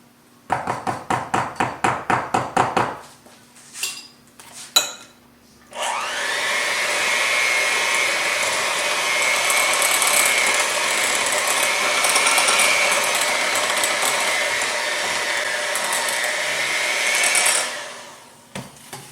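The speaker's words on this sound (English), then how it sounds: "my mixer doesn't have a low speed. It just gets going." An electric stand mixer without a low speed beats banana bread batter, starting abruptly and running as a loud, steady, close whir for about twelve seconds before winding down, after a few earlier clicks and knocks.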